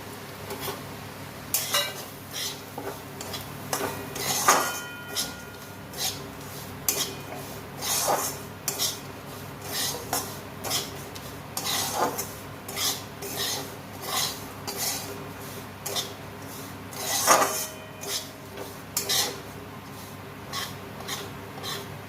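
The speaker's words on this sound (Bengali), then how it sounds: "1/2 কাপ সুজি নিয়েছি, সুজিটা ভেজে নেব।" Semolina dry-roasted in a pan for a mango semolina pilaf, with a spoon scraping and clinking against the metal in repeated close strokes over a soft background, no voices.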